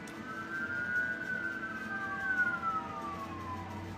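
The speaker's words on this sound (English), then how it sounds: "Confirmation with the sirens." A siren wails steadily in the distance, its tone holding and then sliding downward over a low rumble of traffic.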